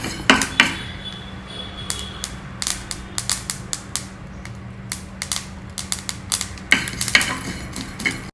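Methi and sesame seeds roast in a pan, popping and crackling in quick irregular bursts over a soft background hiss, with occasional stirring scrapes.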